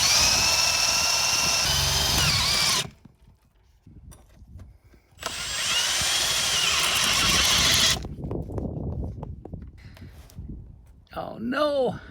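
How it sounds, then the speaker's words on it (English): A power drill boring a hole through the wall of an off-grid cabin, two loud whining bursts separated by a quiet pause, with someone speaking in the gaps and near the end. "Oh, just drilling a hole in a perfectly good wall."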